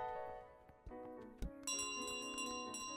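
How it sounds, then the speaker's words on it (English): Bell carried by the goose in Untitled Goose Game rings with bright, sustained metallic tones, a few struck chimes overlapping and ringing on with a clear shimmering tail, fairly loud and alone without talk. "That bell is not yours."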